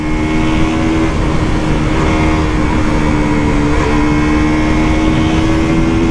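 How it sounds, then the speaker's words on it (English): A KTM RC 125 motorcycle at full throttle in traffic, its engine droning loudly and steadily with a rising whine and a subtle gear change, heavy wind rush underneath. "In third gear, full throttle, shifting to fourth and taking on the traffic."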